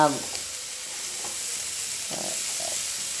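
A squid cutlet mixture with chopped onions, masala and salt sizzles steadily in a pan while a spoon stirs it, scraping several times against the bottom, close and fairly loud.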